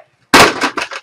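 A sudden loud burst of noisy toy-gun firing, followed by two or three shorter electronic bursts in quick succession.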